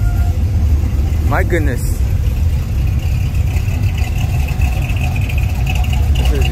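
Car arriving at an Orange County car show, its engine idling and rumbling steadily up close, with a person exclaiming over it.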